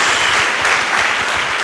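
A church congregation claps together in steady, dense applause, a close and loud wash of many hands that fills the whole moment without any talk over it.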